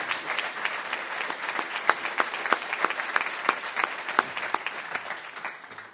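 An audience applauds the standing university leadership group, a moderately distant, even patter of many hands with a few sharper claps, steady for six seconds.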